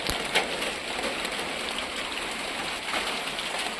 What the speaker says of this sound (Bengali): দেখুন বৃষ্টি পড়ছে কিভাবে।